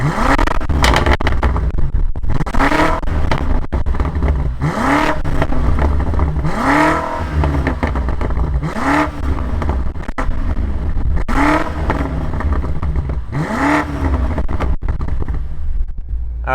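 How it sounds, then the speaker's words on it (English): A 2020 BMW M8 Gran Coupe with a V8 engine, loud and close, rumbling at idle and rising in a series of repeated revs, each swelling and falling back in a regular rhythm. "let's fire it up and hear that V8 rumble"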